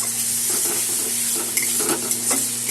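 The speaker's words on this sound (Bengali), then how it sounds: "মশলা আমার কষানো হয়ে গেছে" Spice paste for a Bengali tengra fish curry sautéing in a pan with tomato and potato, a steady close sizzle under repeated scraping stirs, no talking.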